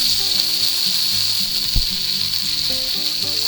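Edges of a ribeye steak searing in a hot pan, a loud steady sizzle with a brief thump as the meat is shifted, and faint clinks underneath.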